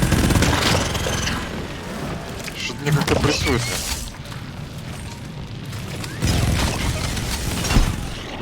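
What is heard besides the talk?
explosions of exploding enemies in a video game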